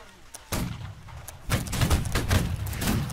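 Musket volleys crack out in the Holdfast: Nations at War game, a sharp opening blast followed a second later by a louder, rolling ragged volley of many shots that rumbles on to the end.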